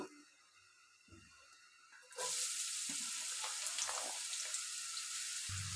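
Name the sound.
bitter gourd with onion, garlic and chilli frying in hot oil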